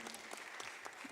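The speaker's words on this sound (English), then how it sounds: "A round of applause for him, ladies and gentlemen." A brief burst of audience applause after a pitch at a fintech summit in Accra, steady clapping from a crowd across the whole moment.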